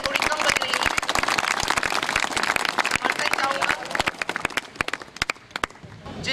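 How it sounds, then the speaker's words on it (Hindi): Audience applause at a Republic Day performance, sharp dense claps that are loud at first and then thin out into scattered individual claps. "तालियां थोड़ी कम बज रही हैं।"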